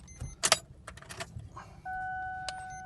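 In a 2002 Mercury Sable, a ring of keys jangles in a few quick metallic clinks as the ignition is turned, then a steady electronic tone and faint hum come on and hold, quiet and close.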